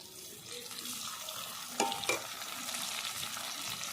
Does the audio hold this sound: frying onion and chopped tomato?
yes